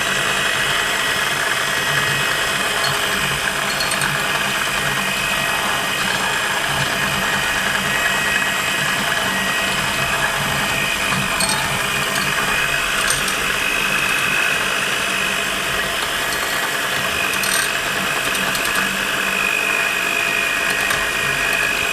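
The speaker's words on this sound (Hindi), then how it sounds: "चलें अब इसको बीटर की मदद से हम बीट करेंगे।" An electric beater on low speed whips a cappuccino coffee mixture, making a continuous, even motor whir with a slight rattle that holds steady from start to finish, with no talk.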